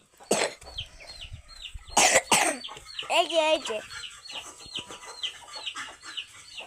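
Chickens and chicks feed on a mix of rice and flour, with a run of rapid high peeps and soft clucks close by, broken by a few brief bursts of noise and a short spoken phrase.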